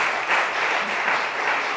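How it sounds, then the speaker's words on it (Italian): Dense, continuous audience applause at a press conference in Fiemme, a uniform wash of many hands clapping without pauses, fairly loud and close. "proseguite pure questo applauso e lo salutiamo"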